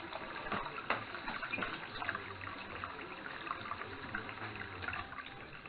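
Water runs steadily from a garden hose left on during a cooling system flush, a continuous trickling, splashing flow with faint clinks, close by and alone.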